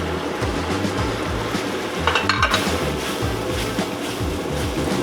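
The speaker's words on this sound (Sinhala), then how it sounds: "දැන් අපි මේකට දාගමු chicken එක." Chicken in a pan for devilled chicken with tomato sauce and stock, steady bubbling sizzle with a brief cluster of utensil clinks and stirring scrapes midway; no speech.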